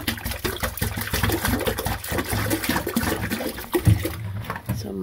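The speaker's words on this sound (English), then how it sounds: "I'm gonna put a bunch of this vinegar because the water wasn't going through." Liquid pours and gurgles steadily into a clogged, overflowing toilet as vinegar is added, a close, continuous splashing with rhythmic bursts over about five seconds and no talk.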